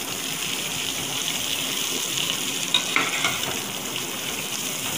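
Onions sautéing in a pan sizzle steadily and loudly at close range, with a few stirring scrapes partway through.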